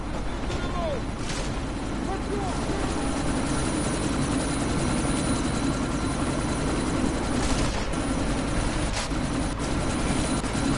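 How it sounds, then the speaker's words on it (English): Helicopter in a video game during a sandstorm mission, a continuous loud rotor and engine drone throughout with gusty broadband noise and a few brief sharp game sound effects layered over it. "you need to disable that chopper"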